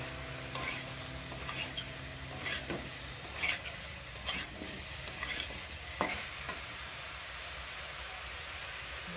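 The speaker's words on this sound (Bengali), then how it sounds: "জল দিয়ে দিয়ে খুব ভালো করে এইভাবে কষাতে থাকবে" Potato and cauliflower curry is stirred and sautéed in a wok with splashes of water, giving a steady low sizzle. Scattered scraping strokes of a spatula against the pan sound through it, with no talking.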